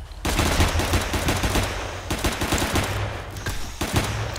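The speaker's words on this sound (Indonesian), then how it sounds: "Kita nembakin dulu ya, gengs, si zombie-zombinya ini." Dense, rapid automatic gunfire blasts at zombies in a Roblox game, loud and continuous in fast bursts with brief pauses, alone without talk.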